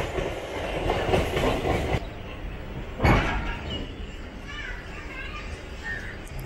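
The Onam Special train from Tambaram to Ernakulam pulls away, with a steady low rumble and faint clattering of the carriages, a brief bump near the middle, and softer rolling noise afterward, recorded from inside the coach.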